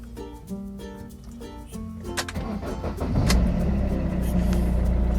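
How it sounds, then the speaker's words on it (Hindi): A car engine cranks over and catches, then settles into a steady idle as the air conditioning fan is switched on, its whoosh building into a broad, constant hum that grows louder toward the end. "इसलिए मैं इंजन भी स्टार्ट कर लेता हूँ, AC ऑन कर लेता हूँ।"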